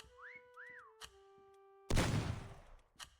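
Short two-note rising and falling whistles in the video game Meccha Chameleon, clear and close, followed by thuds and a loud burst of noise, with no speech.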